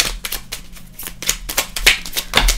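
Tarot cards riffled and slapped by hand in a series of quick, crisp flicks and shuffles, close and fairly loud, with no talking.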